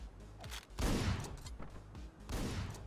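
Rapid shotgun blasts in the Shadow Warrior video game: several loud bursts in quick succession, the last two heaviest, with no talk over them.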